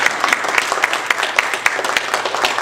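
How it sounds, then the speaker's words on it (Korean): Steady applause from a church congregation, with a few individual claps standing out in an even rhythm against dense background clapping. "박수 한번 해주세요."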